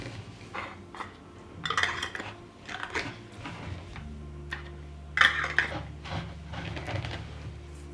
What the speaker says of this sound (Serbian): Zatim ću svaku teglu zatvoriti sa novim i čistim poklopcima